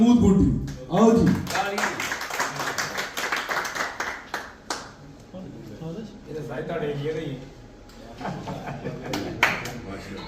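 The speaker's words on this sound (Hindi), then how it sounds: "आगे तालियां, भरपूर तालियां जी नवीद भाई के लिए।" A crowd at a prize-giving event applauds a winner with bursts of clapping that rise and fall, while an announcer talks loudly over the clapping throughout.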